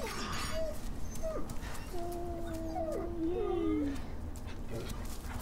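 A dog in the video game Resident Evil 4 whimpers and yips in several short, rising and falling whines, moderately loud against a steady background bed of game ambience.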